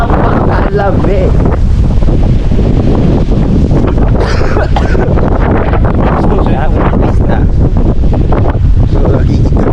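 Strong cold wind on the Faroe Islands buffeting the microphone, a loud, continuous roaring rush with gusty surges and a background that suggests open sea nearby.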